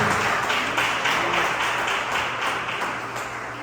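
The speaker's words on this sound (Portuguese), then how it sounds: "Vamos dar ao Senhor as palmas" A church congregation claps steadily and loudly together, a dense rhythmic wash of applause filling the room throughout.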